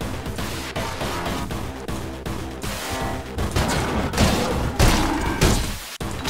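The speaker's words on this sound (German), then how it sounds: "Die Waffe ist auch eine Schrotflinte." Shotgun blasts in the video game Anger Foot, loud booming shots repeating at irregular intervals amid a dense, noisy game mix, with a sharp cutoff near the end.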